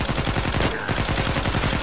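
Rapid automatic gunfire from a weapon in the video game Uncharted 4, a loud continuous rattling burst with a brief gap near the middle, close and dense.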